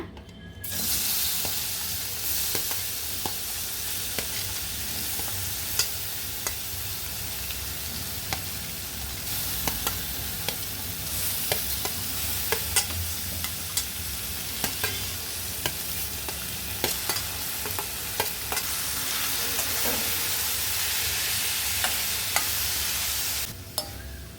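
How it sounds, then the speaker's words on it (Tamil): Fruits sautéing in hot ghee in a pan for a seasonal fruit payasam, a steady close sizzle with frequent stirring scrapes and clinks running throughout without a break. "இருக்கிற நெய்யிலே பழங்களெல்லாம் வதக்கிக்கலாங்க"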